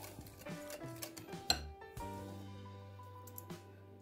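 Sour cream, seasoning and three eggs are being mixed in a bowl, giving faint, irregular clinks and scrapes of a utensil against the dish, with a couple of sharper taps, quiet and close.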